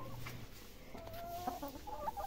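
Hens in a village yard cluck softly and irregularly, with a few short rising calls, faint against quiet background noise.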